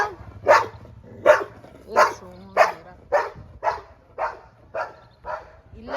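Near a puppy hurt in a road accident and lying under a parked car, a dog barks about nine times in a steady, evenly spaced rhythm, fairly close and moderately loud, with some faint low background hum.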